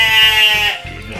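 Texel sheep being transported to a farm bleat loudly and close up, one long quavering cry fading out, with a rumbling vehicle or handling noise underneath.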